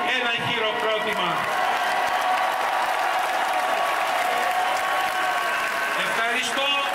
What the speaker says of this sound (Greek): Τους αξίζει ένα χειροκρότημα.